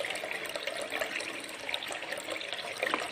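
A water pump serving a remote school runs with a steady, rushing wash of flowing water, moderately quiet and continuous, with no talk over it.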